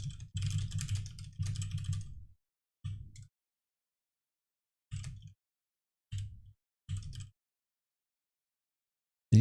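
Someone types on a computer keyboard in short bursts of rapid clacking keystrokes, separated by pauses of silence, nearby and fairly clear.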